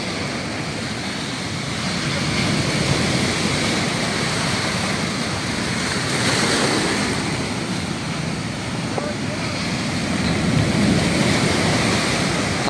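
Rough typhoon surf crashing on the Binh Thuan shore during storm no. 9, a loud continuous roar of breaking waves that swells and eases in surges, with wind noise mixed in.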